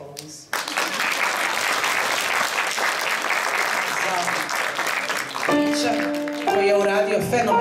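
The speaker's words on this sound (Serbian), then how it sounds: "Molim jedan aplauz." Audience at a sevdah music festival breaks into sustained applause after a song, loud and steady, with a voice speaking over it and musical instruments starting up toward the end.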